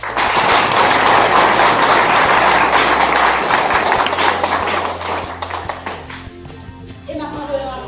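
An audience in a church-style gathering claps in a loud, full burst of applause that thins out after about five seconds into scattered claps, with voices and low background sound underneath.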